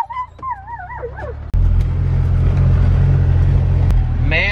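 A German Shepherd named Didge whimpers and yips in high, wavering whines inside a vehicle, then a loud low engine rumble from a combine tractor takes over and drowns out the dog, with faint whines returning at the end.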